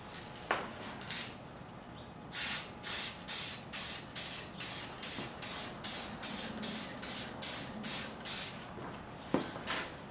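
Rhythmic bursts from a spray can laying clear coat on GS550 cafe racer motorcycle parts: about a dozen short, even hisses in a steady run, close and crisp, after a few scattered earlier sprays.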